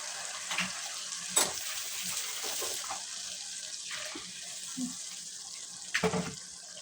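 Ground onion and tomato paste fries in a pan for desi paye, giving a quiet, steady sizzling hiss broken by a few soft clinks and scrapes of stirring.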